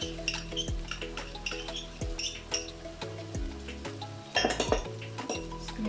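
Metal spoon stirring tomato paste in a cooking pot for a vegetable breyani, giving repeated close clinks and scrapes against the pot at an uneven rhythm, with a louder clatter near the end.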